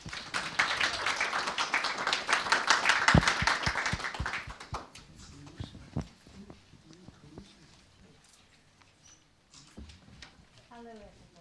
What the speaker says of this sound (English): So please welcome her with a round of applause.